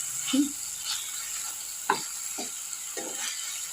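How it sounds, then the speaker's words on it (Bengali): Onion, capsicum and tomato frying in a pan make a soft, steady sizzle, broken by a few stirring scrapes and clinks at irregular intervals, close and fairly quiet. "আর এখানে পেঁয়াজটা ক্যাপসিকামটা আর টমেটোটা আমি ভাজতে দিয়েছি"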